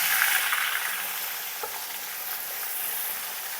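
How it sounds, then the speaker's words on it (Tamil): Ground onion paste sizzling steadily in a pan while chicken kurma is cooked, a dense hiss with a faint stir or scrape near the middle, with no one talking. "வெங்காயம் நல்லா வதங்கிச்சு"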